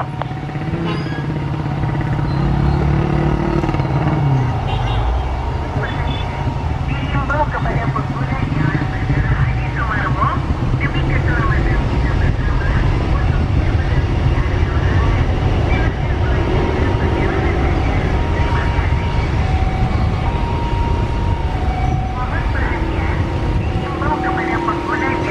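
A passenger airliner roars down runway 08 at Solo airport on takeoff, heard up close from a roadside, with a loud, sustained engine rumble and whine and voices faintly in the background.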